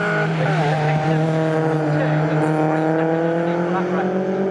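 MG Midget race cars at Snetterton scream past at close range, their engine notes climbing steadily in pitch, with a commentator talking over the loud racing din.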